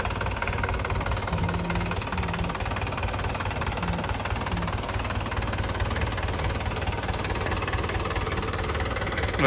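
A tractor engine idles steadily in a village, its low, even rumble running unbroken and fairly close for the whole stretch with no one talking.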